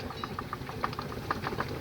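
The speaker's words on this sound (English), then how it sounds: "a 4-inch scale Burrell traction engine called Dragon" A 4-inch scale Burrell steam traction engine in crimson lake maroon runs at a miniature steam parade, giving a steady mechanical chuffing with regular soft clicks and beats over continuous background noise.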